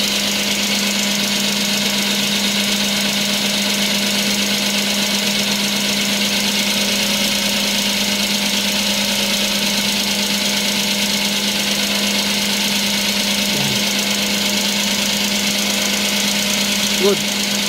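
Suzuki DA63T truck engine idling after a clutch lining replacement and adjustment, a steady, even mid-pitched hum with a constant tone, heard alone and close throughout.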